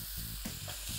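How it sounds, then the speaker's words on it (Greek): Rice and vegetables sauté in a hot pan while Chinese-style fried rice with chicken and shrimp is being made. A steady, close sizzle and crackle carries regular stirring scrapes and rustles, with no talking. "Λοιπόν, συνεχίζουμε το σοτάρισμα."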